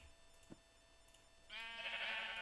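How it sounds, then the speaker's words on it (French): A sheep in a Minecraft-style survival game lets out a clear, sustained bleat after a quiet stretch with faint background clicks. "les moutons, vous allez vous taire,"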